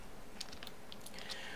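Quick computer keyboard presses for a shortcut in Blender 3D software, a few faint light taps close together against quiet background hiss.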